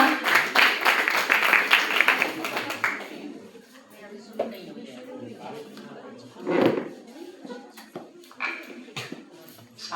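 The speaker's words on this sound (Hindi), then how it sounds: "जोरदार तालियां" Audience applause at a school or college function for Atal Ji's birthday celebration, with a burst of clapping in the first few seconds that fades into scattered claps and background voices.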